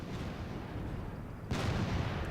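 Artillery in the R.U.S.E. strategy video game, Sexton self-propelled guns and 87mm cannons firing a barrage: a heavy boom bursts in partway through and rumbles on over a steady battlefield hum.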